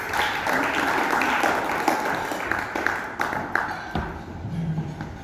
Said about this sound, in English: Another round of applause for Ashley, please